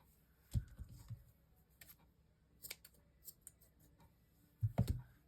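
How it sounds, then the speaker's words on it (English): Quiet, crisp snips of dull scissors cutting cheesecloth, a couple of clustered cuts at the start and end with faint clicks in between. "You know your scissors are dull when they don't even cut through cheesecloth."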